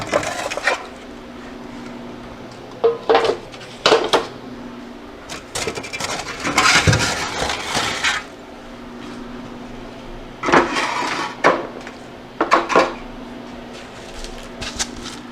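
Metal freeze dryer trays being handled in a kitchen while preparing milk for freeze drying; a few sharp clanks and scraping rattles come in short clusters, close by, between quieter stretches of low background hum.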